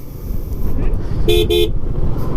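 Two short, loud vehicle horn toots in quick succession at a bend on the mountain road from Leh, over constant engine and road rumble.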